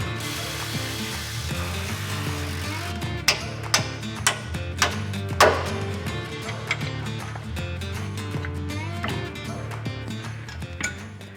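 A hand ratchet clicking while bolts on a GQ Patrol differential are undone, sharp ratcheting ticks in short uneven bursts over a low, steady background hum in a workshop.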